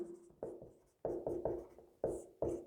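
Pen strokes on paper while the chemistry term phenol is written by hand during a class 12 lesson, a quick run of close, dry scratching bursts with short pauses between them, no voice.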